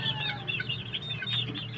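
Several hens cluck softly and continuously in a mixed flock of chickens, with a steady low background hum underneath.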